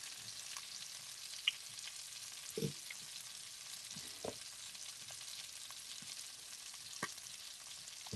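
Onions frying in a pan for a Southern budget meal, a quiet steady hiss with a few soft clinks and stirring knocks scattered through, no voices.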